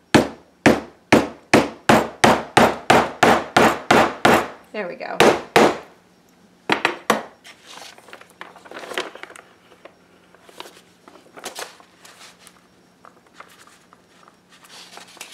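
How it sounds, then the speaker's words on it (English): A quick run of loud strikes from a big hammer on an art journal, a few more heavy blows after a brief pause, then quieter handling noises while someone speaks briefly. "if you hit it with a big enough hammer."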